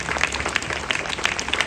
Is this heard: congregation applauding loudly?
yes